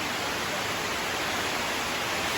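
Heavy rain and wind beat on a house roof, a loud, unbroken wash of hiss that stays even throughout, close by with no voices.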